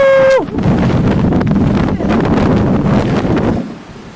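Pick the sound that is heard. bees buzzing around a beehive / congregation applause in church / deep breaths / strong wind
strong wind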